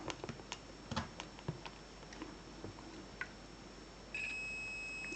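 Quiet clicks and handling noises, then an electronic continuity tester checking a Vaillant gas boiler's heating switch lets out a steady high-pitched beep that holds continuously until the end.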